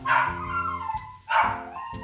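A young puppy of about 14 pounds gives two short, high, yelping barks with a slightly whimpering edge. The barks are close and clear, with nothing else audible.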